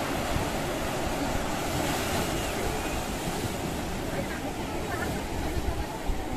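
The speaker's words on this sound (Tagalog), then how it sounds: "Hindi masyadong malaki ang alon." Modest sea waves break and wash in a continuous roar mixed with wind buffeting the microphone, while a person talks over the surf.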